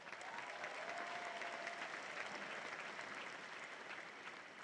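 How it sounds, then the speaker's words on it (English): University commencement ceremony audience applauding, a broad, even, sustained wash of many hands clapping that stays steady throughout and sounds moderately distant. "So give your hands a round of applause"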